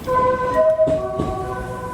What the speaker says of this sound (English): The Romancecar even has a special musical horn